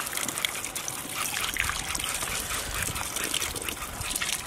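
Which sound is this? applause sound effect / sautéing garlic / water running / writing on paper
water running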